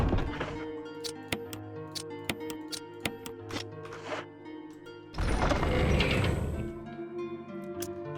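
Shotgun reloading in Resident Evil 1 HD: a series of sharp mechanical clicks and thunks, shells sliding in at an uneven rhythm, followed by a louder, fuller metallic rack and rumble near the end.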